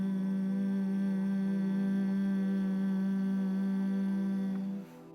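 A steady closed-mouth hum held on one low pitch for about five seconds as bumblebee breath in a yoga exercise, loud and close, trailing off at the end with a soft breath.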